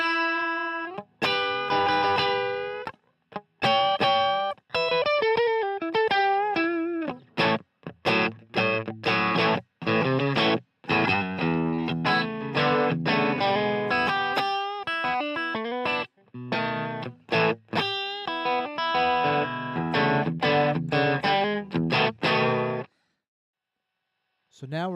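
Electric guitar played through a King of Tone clone overdrive pedal set for heavy, near-distortion gain, loud strummed chords and riffs with brief pauses between phrases.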